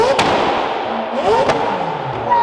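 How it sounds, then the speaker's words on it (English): A Lamborghini LT exhaust backfires and shoots flames, giving two sharp, loud cracks spaced about a second apart over a constantly revving, rising and falling engine drone, close by. "So I've been told by Tommy, this LT is quite the flamethrower"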